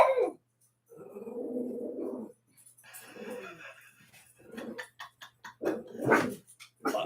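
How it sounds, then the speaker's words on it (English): A dog barks and growls in short, close, loud bursts separated by brief pauses, with a few sharper yelps toward the end. "He just sits here and barks."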